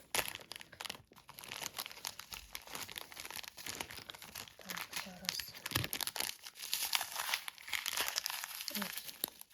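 Crinkling plastic packets of seed beads rustle and crackle steadily close to the mic, with a few brief voiced sounds mixed in.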